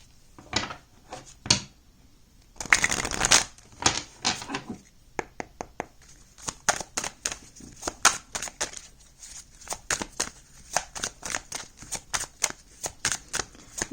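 Oracle cards being shuffled and drawn, with a burst of riffling and then a long run of crisp, close card taps and flicks in uneven rhythm, with no talk.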